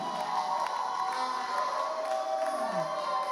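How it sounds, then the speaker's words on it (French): An audience cheering and applauding loudly for Samuel at the Vocalyz singing contest finale, a dense, continuous roar of clapping and whoops with no pauses. "On peut l'applaudir bien fort, s'il vous plaît."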